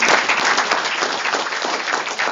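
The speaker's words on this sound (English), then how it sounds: "Let us have a great applause for the day." A packed audience at a National Technology Day celebration claps steadily and loudly, a thick continuous wash of hands filling the hall.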